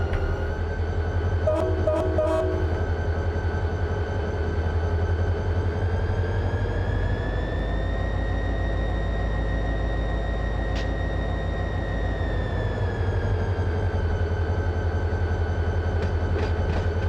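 A freight train runs in the Run 8 train simulator on a Bakersfield local, with a steady, loud diesel engine drone and rolling wheel noise, a long sustained rumble and a few faint clanks.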